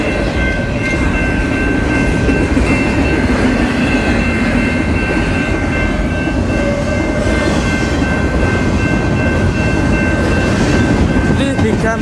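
A BNSF freight train rolls past on the railroad, a steady close rumble of wagons and wheels with faint clickety-clack filling the whole stretch, while a voice speaks briefly.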